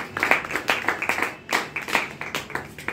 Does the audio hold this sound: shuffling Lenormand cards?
no